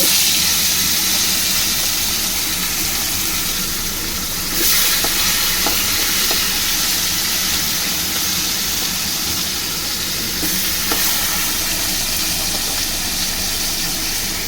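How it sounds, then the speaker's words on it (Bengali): Koi fish frying in hot oil in a Bengali home kitchen, a steady dense hiss and crackle of sizzling that runs continuously at close range with no talk. "বড় বড় কই তো ভালো করে ভেজেছি এবার বাকি তিনটে আছে এই তিনটে আমি এইভাবে ভেজে নেব"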